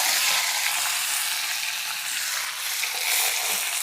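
Urad dal, split lentils and dried red chillies fry in hot oil for a Kerala chammanthi, giving a steady, close, hissing sizzle with no voices.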